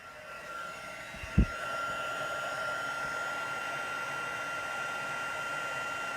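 A handheld heat tool blows a steady, even whoosh of hot air while melting embossing powder on a stamped craft card, with a brief thump near the start.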